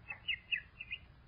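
A swallow chirps as a sound effect in a 1936 radio drama, a few faint, quick high tweets in short succession over a thin low background.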